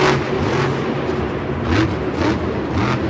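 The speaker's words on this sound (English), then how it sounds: "Spins that truck around in time to get his final hit in there." A monster truck engine at a Monster Jam stadium show in Houston, Texas roars continuously, rising and falling in revs as the truck spins around, loud and steady, with a dense crowd and arena wash behind it.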